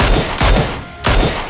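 Gunfire in PUBG, bursts of shots crack out loud and close around 0.0, 0.4 and 1.0 seconds, each burst dying into echoing reverb between, with no talking.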